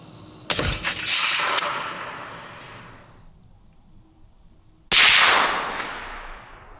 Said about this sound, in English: I'm gonna shoot its body and see where it's going.